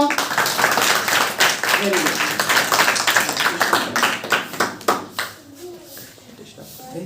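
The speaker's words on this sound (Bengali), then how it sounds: "সবাই জোরে একটা হাত তালি দাও তো" A classroom of children claps loudly together at a teacher's call in a Gita religious-education class, a dense burst of many hands that carries on for several seconds and then thins out toward the end.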